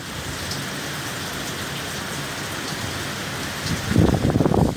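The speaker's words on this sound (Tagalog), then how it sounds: "Ganito po rito, maulan." Heavy monsoon rain pours down steadily, a dense close hiss, with a louder rumbling burst near the end.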